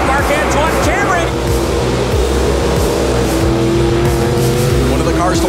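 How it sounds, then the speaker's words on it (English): Stock car engines roar steadily at the NASCAR Pinty's 2021 season opener, including the No. 22 GM Paillé Camaro, a loud continuous drone with faint tire squeal, under an announcer's talk. "Drivers, start your engines."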